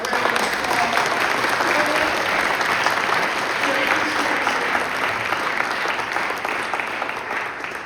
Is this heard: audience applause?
yes